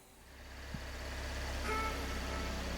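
Car engine idling steadily with a performance power programmer connected, a constant low hum that slightly rises, with a faint click near the start.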